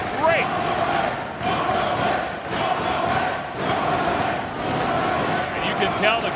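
A wrestling crowd at an ROH tag-team match cheers and roars steadily throughout, a loud dense wash of voices with a few shouts, while a commentator talks over it.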